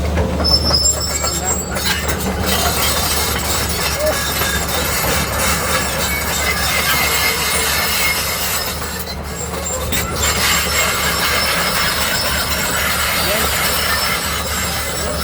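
Steel tracks of a CAT 320D2 excavator grinding and squealing at a dry sprocket, a continuous loud metallic screech over a low engine drone with no pauses.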